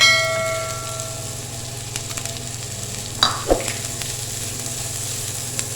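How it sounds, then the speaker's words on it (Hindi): Finely chopped onions hiss and sizzle steadily in hot oil, with a few sharp clinks and scrapes of a spoon stirring the pan partway through; no one speaks. "अब इसको तब तक भूनेंगे जब तक ये ट्रांसपेरेंट ना हो जाए"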